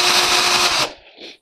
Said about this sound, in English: So what you want to do is you want to put a countersink piece in.